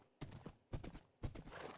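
Horse hooves clip-clopping as a horse is ridden in Minecraft, three short bursts of hoof clatter spaced about half a second apart, fairly close and moderately loud with no talking over them.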